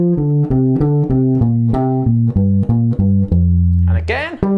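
Electric guitar picks a descending pentatonic lick in triplet groupings, a quick even run of clean sustained notes stepping down in pitch, closing with a brief bend or slide.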